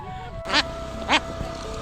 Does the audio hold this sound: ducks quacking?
yes